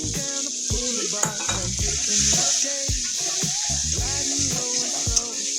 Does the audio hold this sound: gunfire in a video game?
no